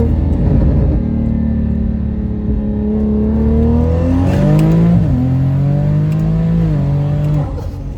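A BMW with the B58 engine and an EVAP delete pulls hard in third gear, its close, loud engine note climbing steadily, dipping briefly midway, then climbing again before cutting off.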